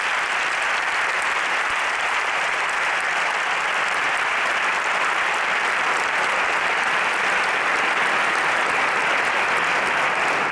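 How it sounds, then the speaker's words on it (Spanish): Sustained, loud audience applause for flamenco singers at a theatre concert final, a dense continuous roar of clapping from a large crowd that holds steady throughout without letting up. "Quiero un gran aplauso por esos grandes cantadores y cantadoras."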